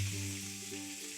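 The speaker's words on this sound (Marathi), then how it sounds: "कांदा परतून घ्यायचा" Onion frying in whole garam masala of cinnamon, cardamom, pepper and cloves for biryani, a close, even sizzle with steady hiss and no voices.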